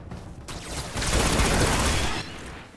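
Rapid automatic fire from a high rate-of-fire weapon in Destiny, a dense continuous burst of many quick shots that swells loud through the middle and tails off at the end, with no talk over it.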